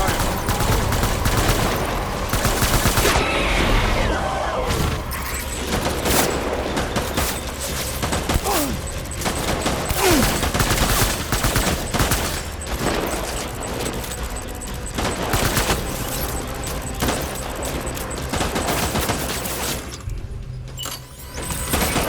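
Sustained gunfire from the video game Death Stranding, with dense bursts of automatic shots and impacts continuing for over twenty seconds, loud and close, with scattered game voices.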